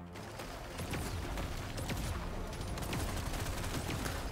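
Dense barrage of plasma weapon shots in Deep Rock Galactic: Survivor, rapid overlapping bursts and splitting projectile impacts firing continuously in a busy, loud game soundscape with mechanical clatter, no talking.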